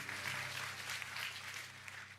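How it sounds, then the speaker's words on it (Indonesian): Applause from a church audience at a sermon, a dense steady patter of clapping lasting a couple of seconds with no voices over it. "kasih tepuk tangan dulu, lihat"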